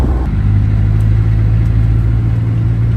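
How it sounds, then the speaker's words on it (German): An overland vehicle drives on desert sand in Mauritania, its engine giving a steady, loud low rumble that holds throughout with faint rattles above it. "So, wir fahren das erste Mal so richtig auf Sand."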